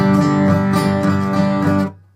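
Steel-string acoustic guitar strummed with a pick held too tightly, a loud, stiff run of about five even strokes over roughly two seconds, ending abruptly.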